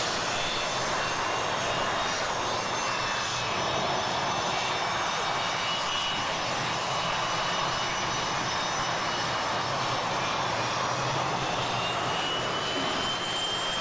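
A-4 Skyhawk jet aircraft engines from Singapore roar continuously at a steady level, a loud sustained jet whine and rumble with no voices heard.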